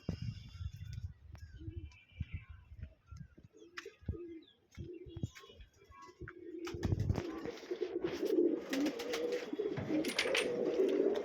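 Pigeons coo inside a home loft just after feeding, soft and scattered at first, then swelling into a denser, continuous murmur of calls with light rustling.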